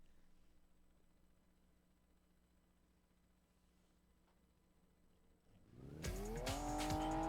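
A Toyota Corolla's engine and exhaust in the PS2 racing game Tokyo Xtreme Racer 3 break a near-silent lull, suddenly revving loud with a rising, buzzy tone that holds to the end.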